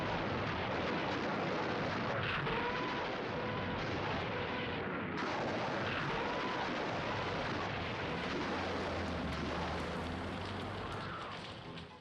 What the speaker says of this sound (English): Soviet shells and rockets disrupt final German preparations